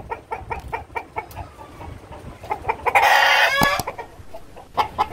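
A flock of Fayoumi chickens on a farm clucks in a quick repeating rhythm, with one loud drawn-out squawk breaking out midway before the steady clucking resumes.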